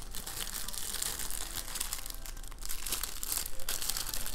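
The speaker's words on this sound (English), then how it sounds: "It does come in this plastic bag, and then it's got the mesh inside." A plastic bag holding a craft toolkit with a mesh bag inside crinkles and rustles steadily up close while being handled and opened, with no talking.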